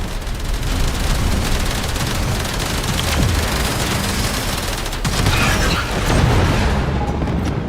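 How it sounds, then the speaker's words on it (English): A cruise ship reactor detonates in Warframe's Railjack mode, a dense, loud roar of rumbling blasts and crackling bursts that carries on steadily with no break and no talk over it. "Cruise ship reactor has detonated."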